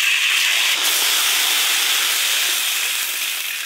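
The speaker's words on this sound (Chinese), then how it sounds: "放入铁锅，起锅烧油，下入这个酸菜鱼的酱料包" Sauerkraut fish sauce packet dropped into hot oil in an iron wok, a loud, steady close sizzle hissing continuously and easing slightly toward the end.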